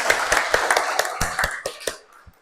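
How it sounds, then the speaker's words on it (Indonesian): Audience applause in a classroom, a short burst of hand clapping from a small group of students that thins out and stops after about two seconds. "kita tepuk tangan untuk materi kita hari ini."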